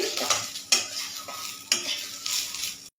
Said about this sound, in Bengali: পেঁয়াজটাকে লালচে করে ভেজে নিচ্ছি।